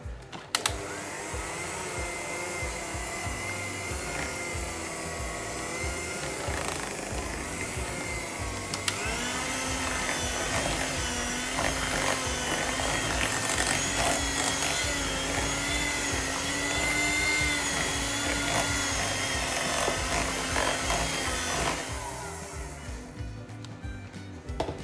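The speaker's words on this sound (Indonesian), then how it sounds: "Sekarang kita mixer sebentar." An electric mixer beats choux pastry batter for a black vanilla rum choux, giving a loud, steady whirring drone that holds for about twenty seconds before cutting out near the end.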